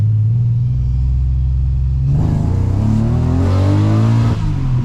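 A 1999 Subaru Legacy swapped to an H6 engine accelerates hard, its loud, close engine drone rising steadily in pitch through the gears with a brief shift break midway.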